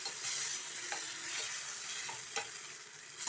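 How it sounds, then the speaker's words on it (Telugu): Mixed vegetables with green peas and tamarind juice sizzle and fry in a pan, a steady hiss broken by occasional stirring scrapes and clinks, close and moderately quiet. "ఒక నిమిషం ఇది వేగనిద్దాం."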